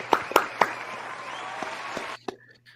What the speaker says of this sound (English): Please some applause.